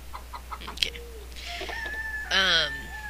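Chickens in the farming game Harvest Moon: Save the Homeland give a few short, soft clucks, then a louder rising squawk near the end, with quiet background game ambience.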